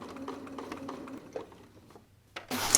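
A sewing machine stitches along the side of a patch pocket, a quick run of rapid soft needle taps that slows and pauses, then a short burst of louder noise at the end.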